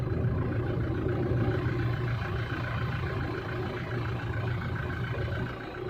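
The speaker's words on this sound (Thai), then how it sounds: "ตอนนี้ผมสตาร์ทเครื่องไว้นะครับ ให้ลูกค้าฟังเสียงเครื่องกันแบบชัดๆกันไปเลยนะครับ" A steady, low idle from a 2017 Toyota Revo pickup's 2.4-litre engine rumbles evenly throughout, smooth and continuous with no revving, recorded close by.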